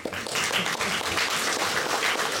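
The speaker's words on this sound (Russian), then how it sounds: "вот аплодисменты, они свидетельствуют о том, что собрание их поддерживает" Applause from the audience at a staff meeting of a research institute, dense and sustained hand clapping across the whole short stretch, fairly loud and steady.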